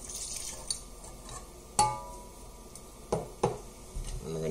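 A spoon stirs flour mixture and milk together into a batter in a bowl, soft scraping and wet swishing punctuated by a few sharp clinks against the bowl, quiet and close.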